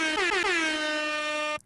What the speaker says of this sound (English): Let me give you an air horn.